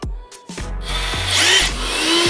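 A DeWalt DCH263P1 brushless cordless SDS Plus hammer drill stops and restarts in short bursts, then its dust extractor whirs up into a continuous high whine beneath the tool, close by.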